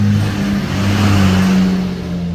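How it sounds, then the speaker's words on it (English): A big truck rolling down an alley, a steady low engine drone with a smooth whir that swells and fades over a couple of seconds, moderately loud with no voices. "Big truck going down the alley."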